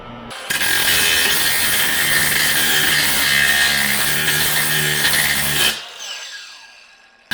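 An angle grinder with a grinding disc cutting into the roof of a Ram 1500 pickup: a loud, steady high-pitched metallic whine for about five seconds that cuts off and spins down, with no talking.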